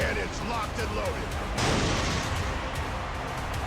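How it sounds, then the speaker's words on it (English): Pirate ship cannons fire during a naval battle in the video game Like A Dragon: Pirate Yakuza, with a booming crash and burst of noise midway through, set against continuous battle din and a voice talking earlier. "Oh, they have long distance cannons."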